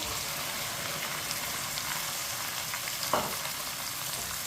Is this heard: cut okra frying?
yes